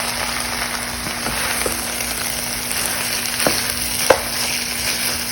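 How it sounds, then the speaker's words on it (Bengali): Food fries with a steady, even crackle in a pan while a utensil stirs it now and then, with a few sharper scrapes and knocks standing out near the end. "একটু নেড়ে দিই।"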